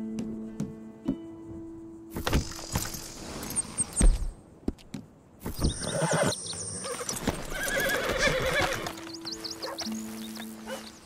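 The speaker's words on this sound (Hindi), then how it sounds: "तो क्योंकि इतने सारे घोड़े एक साथ हैं" Horses in the video game Red Dead Redemption 2 neigh and whinny several times amid clopping hooves and thuds, a lively herd close by with a faint music tone underneath.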